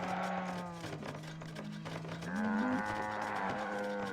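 Cows moo in the strategy video game TZAR: The Burden of the Crown, a long drawn-out low moo followed by a second rising one, clear and fairly close with no talk.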